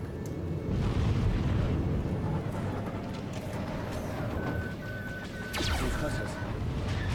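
Rumbling explosions as a shot strikes its target in the Mangler video game, a dense, sustained roar with a sharper burst near the end, moderately loud throughout.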